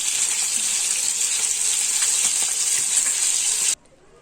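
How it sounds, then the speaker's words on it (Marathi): Bombay duck (bombil) fish frying in a pan: a bright, continuous, close sizzle that cuts off abruptly near the end, leaving near silence. "आता इथे फ्राय झाली आहे बोंबील फ्राय करून घेते"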